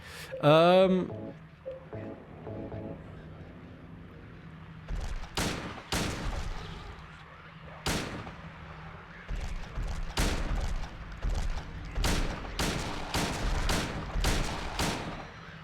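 Pistol shots in Silent Hill 2, a series of single sharp cracks spaced unevenly and then coming more rapidly toward the end, loud against a quiet background, with a brief voice early on.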